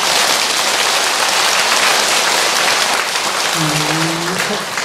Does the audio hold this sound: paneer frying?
no